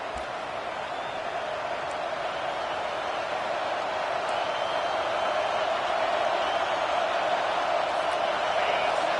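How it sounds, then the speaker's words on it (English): A home crowd at a football game roars steadily as the defense faces third down, a broad, sustained wash of distant cheering that swells slightly over nine seconds, with no breaks. "Here comes this home crowd as the defense tries to get off the field on third down"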